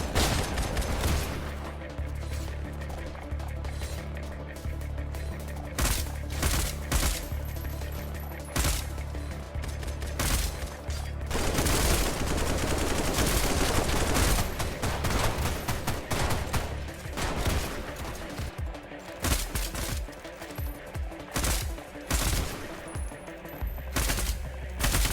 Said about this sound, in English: shoot in short controlled bursts to be ammo efficient